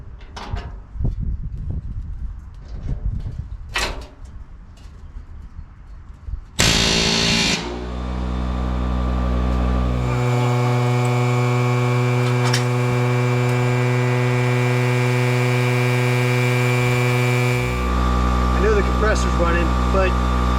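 Riveting through an old cowl and firewall with a bucking tool: a loud, steady pneumatic rivet gun buzzes for several seconds at a time in bursts, after a stretch of speech with clanks.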